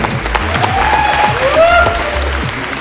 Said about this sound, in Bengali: আমরা একটা করতালি দিলে নিশ্চয়ই তারা শুনতে পাবে